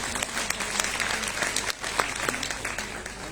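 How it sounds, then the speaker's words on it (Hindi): An audience at an ashram ground-breaking ceremony claps together in a sustained, crackling round of applause, with a voice faintly audible beneath it. "क्यों ना हम तालियां बजाकर उनका भी स्वागत करें"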